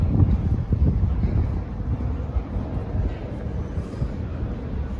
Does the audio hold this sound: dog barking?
no